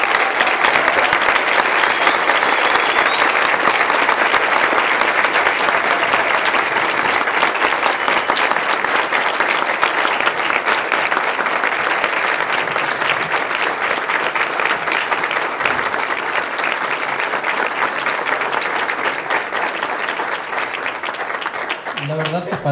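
Sustained, dense applause from a theater audience for an artist at a cinematheque screening, loud and even for over twenty seconds, with faint crowd voices mixed in and a slight easing near the end.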